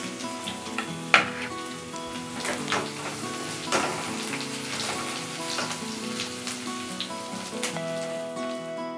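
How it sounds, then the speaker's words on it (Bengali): Potatoes with added coconut fry in a pan for a canteen-style ghugni, giving a steady close sizzle with faint stirring scrapes and a sharp clink near the start, with no voices. "আলুগুলো একটু ভাজা হতে হতেই আমি এবার নারকেলটা দিয়ে দিচ্ছি"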